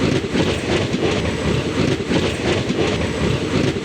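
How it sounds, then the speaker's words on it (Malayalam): A passenger train rolls in loud and close, a steady broadband rumble with clattering wheel noise running throughout, heard at a railway station on the way to Suchindram. "ഞങ്ങൾക്ക് പോകാനുള്ള ട്രെയിൻ എത്തിയിരിക്കുകയാണ്."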